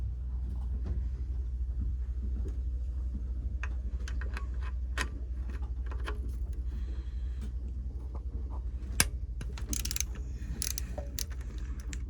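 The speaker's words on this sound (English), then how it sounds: "First, loosening the bolt." A ratchet works on an alternator belt tension bolt, giving a run of quick, light clicks close up over a steady low hum, with a few sharper metallic knocks near the end.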